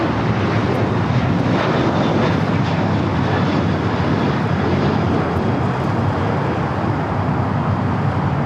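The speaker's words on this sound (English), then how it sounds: "The Asiana A380 Super heading back to Seoul, heading up to the north side." Asiana Airbus A380 departing LAX for Seoul, a continuous, loud, rumbling jet roar that stays even throughout.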